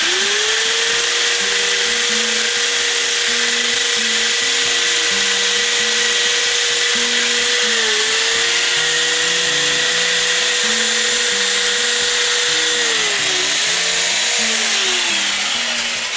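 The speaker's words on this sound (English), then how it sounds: "So my next step is to do a little sanding on it." Close, loud, steady whine of a power sander grinding on a tinned metal gas tank for a Jacobsen, its pitch dipping briefly under pressure.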